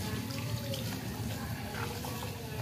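Water runs steadily into a clean pot of red rice, a continuous trickling pour with a low background hum.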